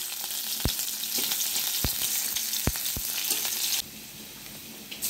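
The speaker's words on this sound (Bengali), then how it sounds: "ভালো করে ভেজে দেবো।" Bay leaf and onion fry in hot oil in a wok, giving a steady, close sizzle punctuated by a few sharp clicks and scrapes from stirring, with no talking.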